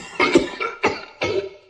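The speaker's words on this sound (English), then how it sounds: "Yeah, General Grievous's cough" George Lucas's hacking bronchitis cough, used for General Grievous in Star Wars: three harsh, close coughs in quick succession, each a raspy burst with a wet rattling tail, heard alone.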